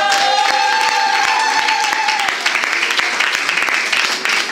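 A church congregation at a Pentecost weekend service applauds and cheers for the Holy Spirit, dense loud clapping filling the space, with a sustained tone under the first half and the applause thinning slightly toward the end.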